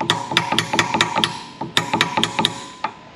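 Rapid hammer strikes drive a fastener during a brake job on a 2015 VW Jetta, coming in two quick bursts of sharp metallic taps with a brief pause between them, close and loud.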